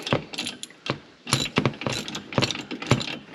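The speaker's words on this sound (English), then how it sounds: "Got one more bolt to tighten up." A ratchet tightening a bolt on a Ranger, heard as close, loud bursts of rapid clicking in repeated strokes with brief pauses between them.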